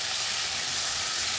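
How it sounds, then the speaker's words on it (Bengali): Fried fish is stirred into a sizzling spice paste that has released its oil, giving a bright, steady crackling hiss close up with faint scraping of stirring, and no talk. "মশলার মধ্যে ভাজা মাছগুলো দিয়ে মশলার সঙ্গে মাছগুলো নেড়ে চেড়ে নেব"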